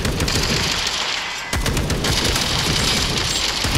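Continuous rapid gunfire in a World War 2 first-person shooter game, loud dense automatic bursts with a brief dip before resuming, no talk audible.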